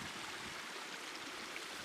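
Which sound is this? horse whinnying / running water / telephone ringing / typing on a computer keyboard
running water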